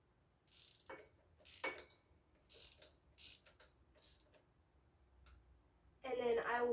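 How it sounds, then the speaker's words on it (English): A hand ratchet tightens a fastener during an oil and air filter change on a Yamaha TTR 230 motorcycle, giving bursts of quick, close metallic clicks broken by pauses, with a louder final run of clicking at the end. "you can use the socket and an extension to just hand tighten it. And you could take your ratchet."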